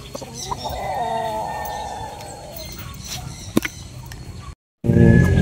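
Gamefowl roosters, including pure Gilmore broodcocks, cluck and call in the background over steady farmyard noise on a game farm, with a sharp bang midway and a brief dropout near the end.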